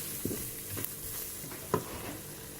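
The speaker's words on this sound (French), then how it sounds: "Je saupoudre d'une cuillère de farine. Je remue." Chopped onion and pork dusted with a spoonful of flour are stirred in a Cookeo multicooker. A soft steady sizzle sits under a few close scraping stirs, with no voices.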